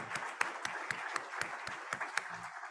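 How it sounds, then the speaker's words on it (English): A small audience at a college vision talks event gives a round of applause with sparse, distinct claps standing out in a steady rhythm, moderately near and fairly quiet. "Let's give them all another round of applause"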